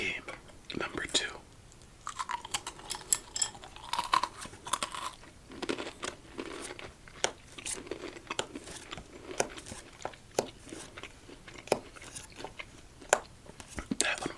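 Close, crisp crunching and chewing of Flamin' Hot Cheetos Pretzels, with irregular bites repeating over several seconds, alongside soft whispered talk and faint card-handling sounds.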